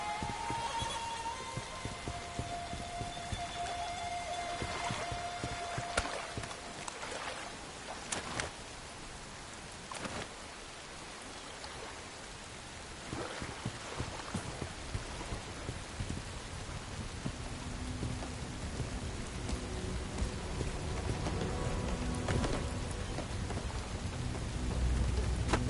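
Steady heavy rain with rolling thunder in the video game Bright Memory: Infinite, a continuous loud downpour broken by several deep rumbles and cracks, with no voices.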